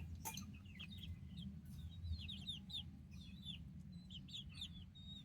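Young gamefowl chicks chirp and cluck softly in a steady scattered stream over a low background hum, with no voices present.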